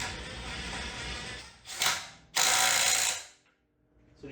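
A DeWalt DCF921 20V Atomic cordless impact wrench tightens a nut. One short hammering burst is followed by a brief pause, then a longer, louder rattling run of impacts before it stops.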